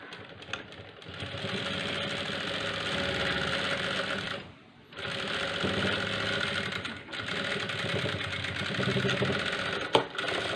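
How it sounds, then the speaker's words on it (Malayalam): A sewing machine runs steadily while double stitching the front and back of a blouse together, a loud continuous mechanical whir that pauses briefly twice before resuming. "ഡബിൾ സ്റ്റിച്ച് ചെയ്ത് എടുക്കുക, രണ്ടും ഇതുപോലെ തന്നെ ഡബിൾ സ്റ്റിച്ച് ചെയ്തെടുക്കുക"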